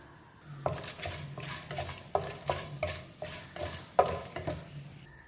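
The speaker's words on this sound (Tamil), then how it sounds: "தாளிக்கிறதுக்கு 3 நீட்ட மிளகா சேர்த்துக்கிறேன், 2 குண்டு மிளகா சேர்த்துக்கிறேன்." Chana dal and dried red chillies, both long and round varieties, frying in oil for a Tamil gooseberry rice tempering, with a steady sizzle broken by repeated sharp spoon scrapes and clinks against the pan, fairly close and moderately loud.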